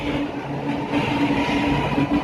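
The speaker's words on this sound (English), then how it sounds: "The train started to move." A Chennai metro train rumbles steadily along the tracks from St. Thomas Mount, with a continuous low drone and faint tonal hum from the carriage, close and fairly loud throughout.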